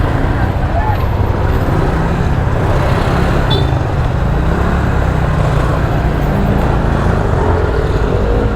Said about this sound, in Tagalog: Grabing traffic.